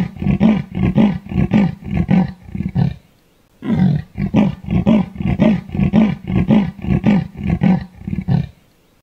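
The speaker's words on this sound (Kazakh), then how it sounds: "Бұл леопард." A leopard gives a loud, close sawing roar: two long series of rhythmic, rasping grunts with a brief pause between them.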